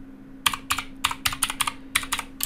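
A message is typed on a computer keyboard, with about a dozen crisp, close key clicks in quick irregular bursts over a steady low electrical hum, and no voices.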